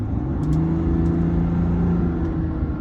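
A 2021 GMC Sierra Denali pickup with a turbocharged engine accelerating at half throttle, a steady rising engine drone and road rumble heard from inside the cab, without speech.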